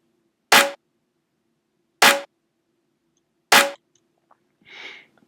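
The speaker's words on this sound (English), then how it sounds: "the second sample that's layered on top of it is this really weird sounding snare. Again, low cut, and it sounds like this." An odd-sounding layered snare sample with the low end cut, for a trap beat: three sharp, bright hits at steady intervals, followed by a softer, breathy noise burst at the end.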